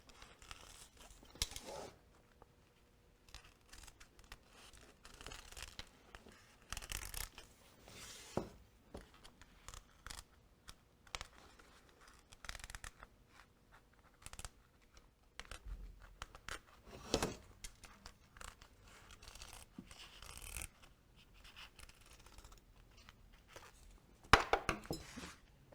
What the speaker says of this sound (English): I like to use duckbill scissors.